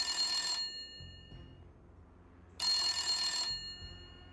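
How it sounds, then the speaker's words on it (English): A mobile phone rings in two bright electronic bursts separated by a pause, moderately loud and alone over a quiet background. "Estelle, Margaret's phone is going off."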